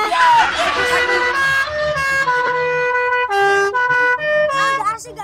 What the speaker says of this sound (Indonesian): Kalau ini kayak klakson bis